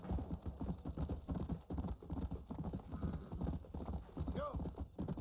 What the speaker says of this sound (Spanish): Hay algunos caballos en este juego que son increíbles